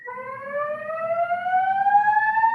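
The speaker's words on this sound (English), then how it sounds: "Your alarm's going off, Roger." A building alarm sounds on its own, a steady electronic tone that rises slowly in pitch and stays fairly loud, with faint murmur beneath it.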